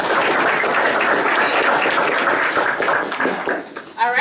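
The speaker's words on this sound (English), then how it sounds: "hand clap for the ladies again, please" A crowd at a county board public meeting gives sustained applause and hand clapping, a dense, loud wash of clapping that holds steady, then thins out near the end.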